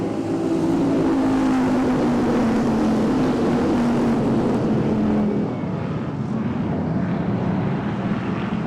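Late model stock cars racing at I-37 Speedway, a dense, continuous engine roar from a pack of cars with a whining tone that slowly falls as they pass, loud and sustained throughout.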